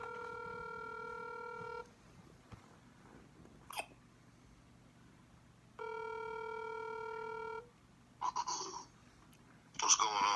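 Outgoing call ringback on a telephone line: two long, steady ring tones a few seconds apart, clear and close, with quiet line noise between and brief clicks and rustles toward the end.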